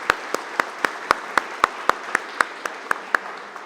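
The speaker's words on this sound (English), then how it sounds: "So a round of applause for you young folks that are here today." Applause for children at the opening ceremony of a new firehouse, heard as about fourteen sharp, evenly spaced claps at a quick steady rhythm, close and clear, fading slightly at the end.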